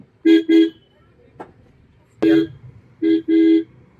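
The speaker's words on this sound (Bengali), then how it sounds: "হর্ন দিতে যাবো।" A car horn honking on a mountain road from Haridwar to Kanatal, sounding as short close toots in pairs, a single blast, then another pair, with quiet gaps between.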